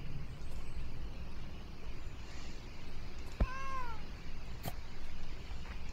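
A cat meows once in the video game Please, Touch the Artwork 2, a short, clear call rising out of a low, steady background hum.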